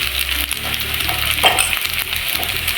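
Paneer pepper fry cooking in a pan with garam masala, a steady close sizzle broken by a few scraping stirs of a spatula, with no talking.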